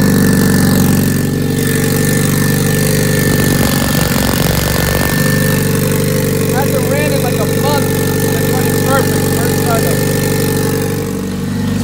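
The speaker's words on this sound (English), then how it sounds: "it's crazy the happiness of turning on your car after you haven't turned it on in like a month" An Acura Integra engine idles loudly up close after start-up, a steady rumbling drone with a brief rise in revs partway through, as a person talks faintly over it.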